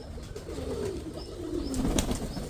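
A pigeon cooing softly outdoors in wind, low throaty coos rolling across a couple of seconds, faint and close with a breezy background.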